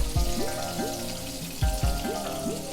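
Chopped garlic fries in butter in a pan over low heat, a soft close sizzle broken by small popping bubbles and light spatters, heard alone.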